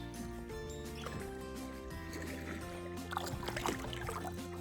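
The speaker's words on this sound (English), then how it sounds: "I can go paddling with my one hand." Kayak paddling on Owl Lake, with soft watery sloshes and gurgles from the paddle over a steady low hum, fairly quiet and continuous, with no talking.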